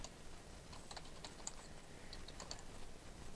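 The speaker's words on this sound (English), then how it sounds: "we're going to type in internet marketing" Light, quick taps on a computer keyboard, irregular clicks close by with no talking, someone entering text into a web form for a short link.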